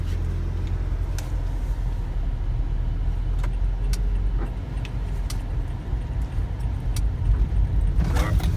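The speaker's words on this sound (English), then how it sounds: "We are now heading down the road" A car driving down the road, heard from inside as a steady loud engine and road rumble with occasional light rattles and clicks throughout.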